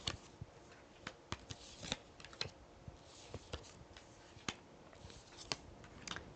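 Light Seers Tarot cards riffle and snap in a quiet, uneven patter of soft flicks and crisp taps, close by and fairly faint, with no talking.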